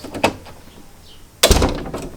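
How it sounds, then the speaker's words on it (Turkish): A door being shut during a sneaky setup in a house, heard as one sharp close standing out over quiet room tone, following an earlier smaller knock or handle sound. "Kapıyı da kapatayım şöyle."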